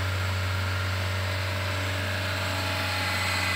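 A Toyota Calya engine held at a steady high idle near 2000 rpm during tuning, an even mechanical hum with a constant low drone that barely shifts in pitch, no voices.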